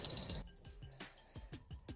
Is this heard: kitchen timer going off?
yes